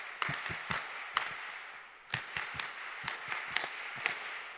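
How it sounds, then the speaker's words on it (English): An audience at a women's federation launch claps in several uneven bursts of sharp, moderately loud hand claps, with a short pause in the middle. "So let's give her a power clap."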